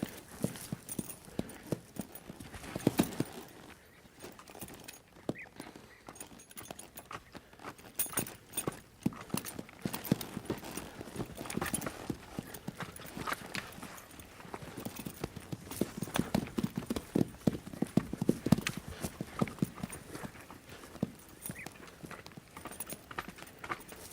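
Horse hooves clip-clop in a steady, uneven rhythm while the horse is worked on foot. The hoofbeats are fairly close and continuous throughout, with no talk over them.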